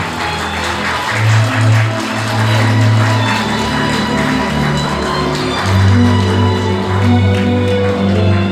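Sustained applause from wedding guests fills the hall as the parents enter the ceremony, mixed with steady background music and low voices.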